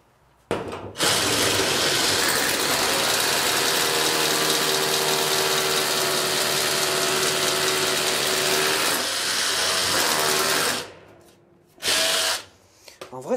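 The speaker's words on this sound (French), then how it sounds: "on va percer à 10, on verra bien comme ça." A Vonroc cordless hammer drill bores with a 10 mm bit in one long, loud, steady whine that runs for about ten seconds, then stops, followed by a brief second burst near the end.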